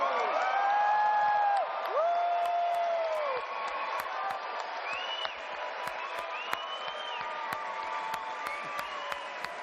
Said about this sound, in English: one more round of applause for FY19